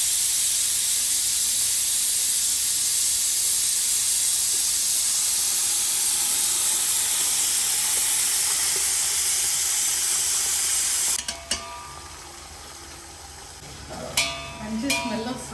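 Curry leaves sizzling in hot oil: a loud, steady, spitting hiss for about eleven seconds that then drops sharply into faint clinks and stirring.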